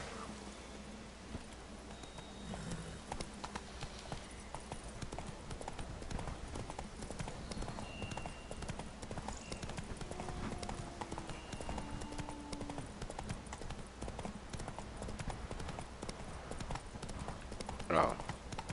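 Hooves of a horse clip-clop steadily in the Witcher 3 Blood and Wine game, a quiet rhythmic trot running throughout beneath game ambience and occasional talk.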